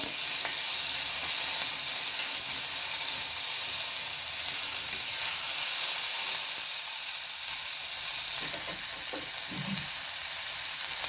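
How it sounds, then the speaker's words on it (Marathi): Chopped onion and tomato sautéing in a pan for a sprouted mung usal breakfast, a loud, dense sizzle throughout, close and unbroken, easing a little toward the end as a spoon stirs, with no talking. "त्यामध्ये आता आपण टोमॅटो घालून घेणार आहोत याला दोन मिनिट छान परतून घ्यायचं आहे"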